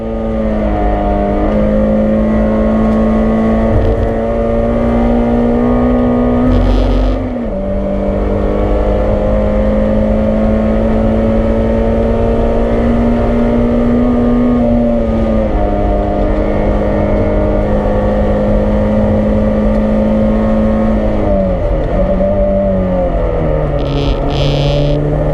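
Onboard a BRSCC Clubsport Trophy race car lapping Oulton Park, a loud close engine drones at high revs, with brief dips and rising pitch at each gear change, running continuously with no talk.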